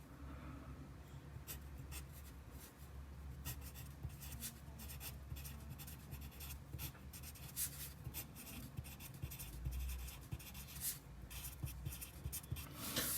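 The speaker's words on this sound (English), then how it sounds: "I'm gonna start with this one, just with the regular writing, see how it does." A Palomino Blackwing 602 pencil writes on paper, a close, faint, continuous graphite scratching made of quick strokes with short pauses, with no voices.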